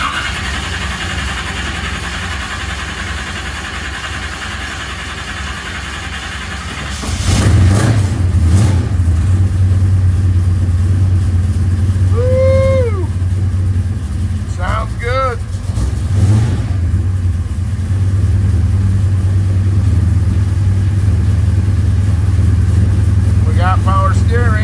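A '67 Chevrolet with a 496 stroker big-block V8 cranks and fires up, then settles into a loud, steady, rumbling idle with a couple of brief revs, heard close.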